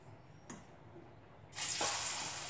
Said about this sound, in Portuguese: agora vamos fritar nossa bananinha